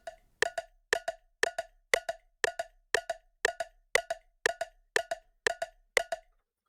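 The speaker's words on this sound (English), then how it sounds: "So if I play that with the metronome" A steady metronome ticks sharply and evenly, about two clicks per second, with accented pairs, close and crisp with nothing else playing.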